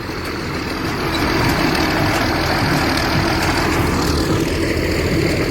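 A homemade Thai farm tractor's engine runs at gentle throttle, a loud, steady, close rumbling drone that rises slightly and then holds even throughout.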